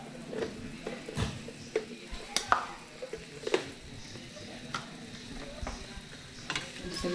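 Picaditas with grated cheese frying in a pan while being stirred: soft scraping and tapping strokes over a faint sizzle, close and quiet, with occasional sharper clicks.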